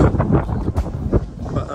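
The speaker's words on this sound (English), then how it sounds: "Bit windy, bit windswept." Gusty wind buffets the microphone with low rumbling bursts, loud and uneven throughout, at Worth Matravers on the coast.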